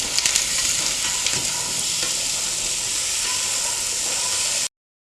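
Onions, potatoes and mixed vegetables sautéing in a pan for bisi bele bath, a steady close sizzle with faint scraping stirs, ending abruptly after about four and a half seconds.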